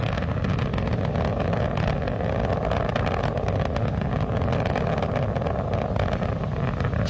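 Space shuttle Atlantis main engines during launch give a steady, dense roaring rumble that holds evenly for seven seconds without pause, distant and continuous with no talk over it.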